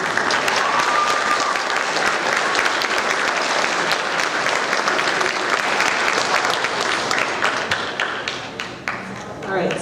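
At a seventh-grade awards ceremony, an audience claps for honored students in a long, loud burst of sustained applause that tapers slightly near the end.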